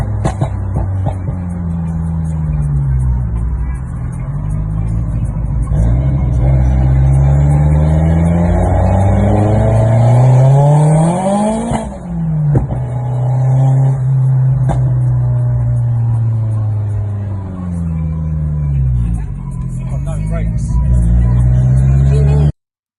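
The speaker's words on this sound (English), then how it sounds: "Exhaust is leaking, so just getting no boost whatsoever." Ford Focus RS Mk1 with a leaking exhaust driving hard, its engine note rising and falling loudly through gear changes with repeated revving sweeps, close and continuous, with someone talking over it.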